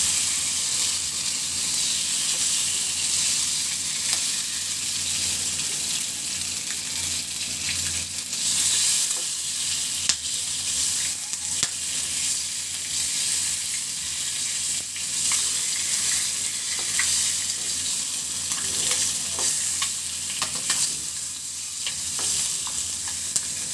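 An egg fries in oil in a pan for an egg and masoor dal dish, giving a steady, loud, close sizzle with faint stirring and spatula scrapes throughout and no voices.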